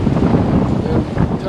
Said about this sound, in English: Talisman really does like this kind of wind